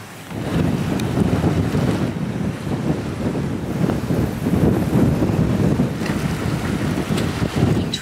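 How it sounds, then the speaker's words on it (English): Wind blowing hard over a sailboat at sea during a squall: a steady loud roar of wind buffeting the microphone over a wash of water, with no speech. "Five knots of wind right now. And it probably just picked up to about 30 as it actually came down."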